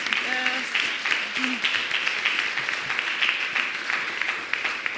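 A church congregation claps during a Sunday service, a fairly close, steady round of applause with a brief voice and a few tonal sounds near the start.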